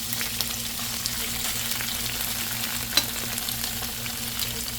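Cauliflower and tofu fry in a pan with a soft, steady sizzle over a low background hum. There is a single brief clink midway.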